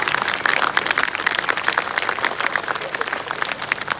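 A crowd applauds loudly and continuously, dense clapping filling the whole stretch without a break.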